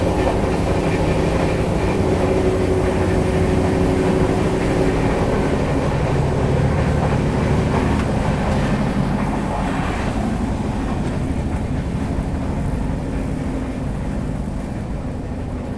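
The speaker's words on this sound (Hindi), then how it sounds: "ट्रेन गुडूर जंक्शन पहुंच रही है।" Inside a first AC coach of the 13352 Alappuzha–Dhanbad Express nearing Gudur Junction, a loud, steady rolling rumble of wheels and carriage noise fills every moment, easing slightly toward the end.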